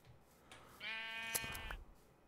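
Sheep bleats in the Minecraft SevTech Ages modpack: a single drawn-out, wavering game bleat, clear and fairly close, with a faint click near its end and quiet background otherwise.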